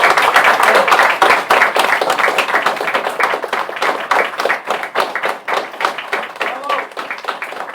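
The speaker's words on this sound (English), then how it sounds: "Can we also applaud Scott?" An audience at a book event applauds, with loud, dense clapping at first that thins into scattered, separate claps and gradually fades.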